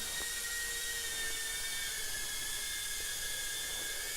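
An ATOYX AT66 toy drone hovers nearby with a steady, high-pitched whirring whine from its small propellers, constant and unbroken, with no voices.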